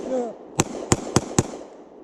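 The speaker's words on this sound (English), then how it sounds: "it's 45 pistol coming at you live" A .45 pistol is fired into a log outdoors: four sharp, rapid shots in quick succession, close and loud, after a brief voice at the start.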